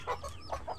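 Chickens in a backyard flock with young cockerels, giving a few short, soft clucks in quick succession, close and alone.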